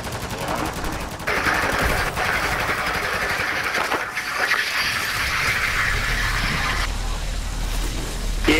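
Rapid automatic gunfire rattles almost continuously in the Call of Duty MW3 Zombies video game, loud and dense with game noise, while players talk over it.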